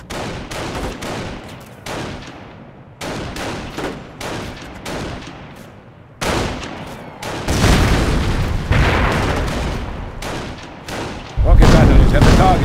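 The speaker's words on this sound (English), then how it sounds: "Rocket batteries have a target. Initiating fire sequence." Rocket artillery in Company of Heroes fires in loud, repeated whooshing bursts and booms that build into a dense, sustained barrage, with a heavy final salvo.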